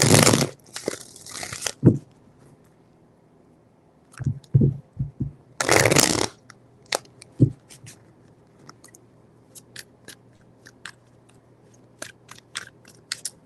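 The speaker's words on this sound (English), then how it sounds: "Three shuffles." Tarot cards shuffled by hand in two quick bursts of riffling, one at the start and another near the middle, with soft taps and card flicks in the quiet stretches between.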